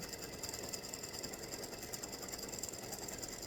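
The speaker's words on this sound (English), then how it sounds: "Stick that thread in the wrong place on the sewing machine and it'll talk to you" A steady mechanical whirring and clatter of a sewing machine running continuously, with a fast, even rhythm and no voices.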